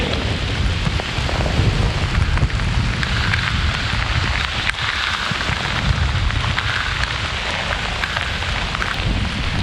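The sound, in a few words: heavy rain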